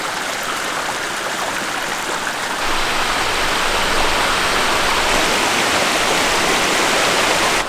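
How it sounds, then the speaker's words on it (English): Punchbowl Waterfall pours along a creek and down over rocks on the NSW Mid-North Coast, producing a loud, constant rushing roar of water that fills the whole scene without any talk. "This is the Punchbowl Waterfall. Goes along the creek, down over the rocks."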